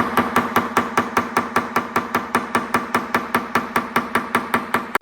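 A hammer taps a saw plate on a hard bench top in a fast, even series of about two dozen sharp, close strikes with no talk.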